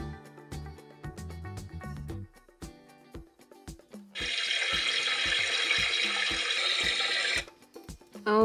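A tap runs into a bath, a loud steady gush of water lasting about three seconds between scattered clatters and knocks of a toy being handled.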